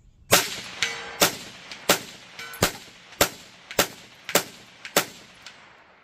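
Ten sharp rifle gunshots at steady, roughly half-second intervals, each loud and close with a ringing tail, fired on a range while testing a Feyachi M40 3x magnifier mounted behind a red dot sight; no talking.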